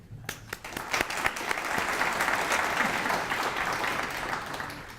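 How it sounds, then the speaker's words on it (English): An audience bursts into applause, building quickly to dense, sustained clapping that continues for several seconds, fairly close and loud. "I think all of you guys deserve a round of applause"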